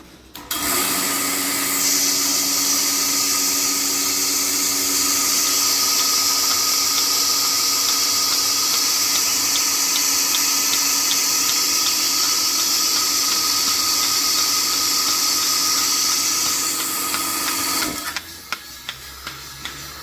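A repaired milking machine with its pulsators runs with a loud, steady mechanical whir and rapid regular ticking, then cuts off abruptly near the end, leaving a few faint clicks.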